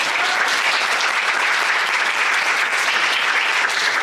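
Audience applause fills a community meeting on social cohesion and security, a dense, steady clapping that holds evenly throughout, loud and close with no voices over it.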